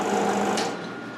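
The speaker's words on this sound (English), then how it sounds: "we have Eddie here welding today" Steel plate is welded onto a car body in a smoky garage, a close, continuous crackling hiss that fades a little toward the end.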